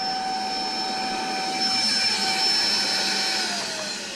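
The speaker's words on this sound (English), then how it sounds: "Vacuum cleaner fell down." A vacuum cleaner keeps running after falling over, a steady high-pitched whine with a constant tonal hum and rushing airflow, close and loud, swelling slightly before easing at the end.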